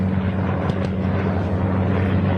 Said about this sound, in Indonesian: Helikopter Amerika.